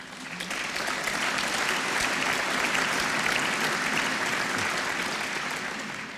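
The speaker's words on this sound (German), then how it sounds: "Applaus" Applause from an audience during a German political welcome address, dense and sustained clapping holding at an even loud level for about six seconds, alone with no voice over it.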